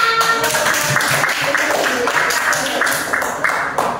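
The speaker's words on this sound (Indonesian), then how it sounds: "Oke, tepuk tangan." A classroom audience claps for group one after their robot-game demonstration, a steady patter of many hands lasting the whole stretch at moderate loudness, with a voice or two mixed in.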